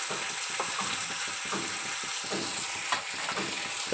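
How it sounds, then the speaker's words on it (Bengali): Chopped raw onion frying with eggs in a hot pan, sizzling steadily and loud, with repeated scraping strokes of a spatula stirring, no voices. "এবার আমি ডিমে ভাজার মধ্যে দিয়ে দিচ্ছি কিছুটা কাঁচা পেঁয়াজ কুচি"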